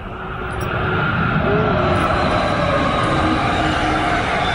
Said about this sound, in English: The train going by.